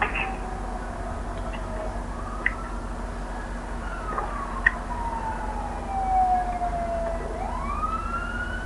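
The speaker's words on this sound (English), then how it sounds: "sirens going off. Not the greatest neighborhood over here." A siren wails outdoors, its pitch sweeping up and down over steady traffic rumble, moderately distant and continuous.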